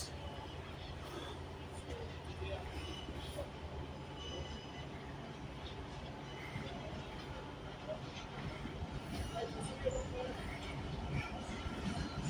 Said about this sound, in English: So our first freight of the day is going to be, when it comes round the corner, Freightliner Class 66